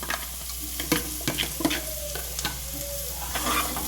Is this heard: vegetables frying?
yes